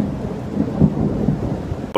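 Thunder sound effect following a lightning strike, a deep rolling rumble with a few heavier low thumps, loud and close, ending with an abrupt cut.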